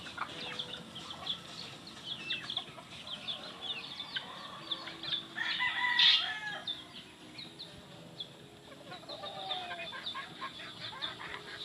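A farmyard flock of hens and young roosters at feeding time clucks and chatters at moderate distance, with a brief louder squawk midway over a dense rustling background and no talking.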